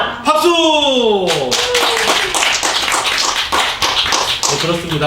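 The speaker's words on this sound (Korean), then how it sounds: "박수!" Audience clapping at a Korean May 18 memorial concert comes in a loud burst right after a crowd chants a slogan, mixed with shouting and cheering voices.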